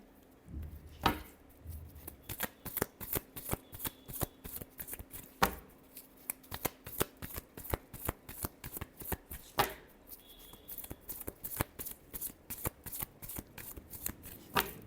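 Tarot cards being shuffled, with repeated crisp riffling bursts and sharp flicks running steadily throughout, close and fairly quiet, with no talking.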